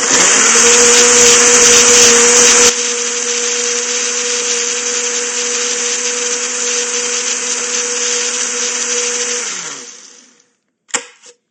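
A blender whirs loudly and steadily through a wild blueberry walnut cookie smoothie, shifts in tone early on, then winds down to a stop, followed by a brief clunk.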